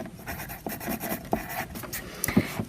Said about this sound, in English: let's begin with writing our name in the bottom right-hand corner of our paper